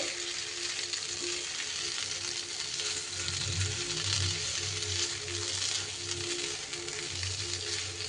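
Steady sizzling and frying of rice with spices in ghee in a pan, continuous and fairly close, with faint low stirring or scraping noises underneath.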